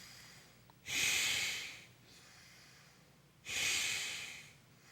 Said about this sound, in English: Inhale through both, strong exhale through the right, strong inhale through the left, 3 times.